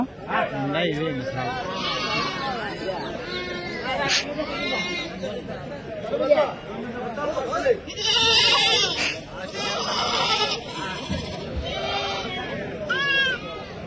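Goats and sheep bleat repeatedly amid busy chatter at the weekly Tuesday livestock market in Kadiri, several animals calling near and far while people talk.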